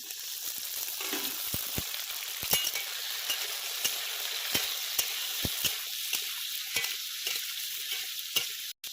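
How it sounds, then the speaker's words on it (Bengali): Diced potatoes, papaya and tomato frying in hot oil in a pan, giving a steady close sizzle broken by sharp clicks and scrapes of a stirring utensil, with no talk. "এবার তেলের মধ্যে দিয়ে দেবো এই আলুগুলো।"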